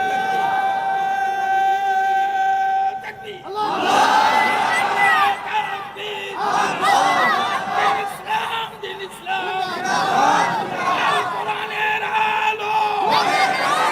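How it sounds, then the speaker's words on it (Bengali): A mosque or madrasa congregation at a religious sermon shouts a takbir response together, a loud crowd roar that swells in repeated bursts over about ten seconds with a steady tone humming beneath. "তাকবীরের আওয়াজটা কিন্তু তেমন জোরে হয় নাই"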